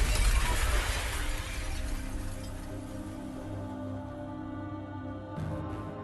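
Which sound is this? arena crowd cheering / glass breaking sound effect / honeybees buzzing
glass breaking sound effect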